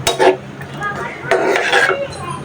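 Spatula scraping and clinking in a pan while spice paste with jackfruit seeds and dried fish fries, two bursts of metallic stirring close by with a quiet sizzle between.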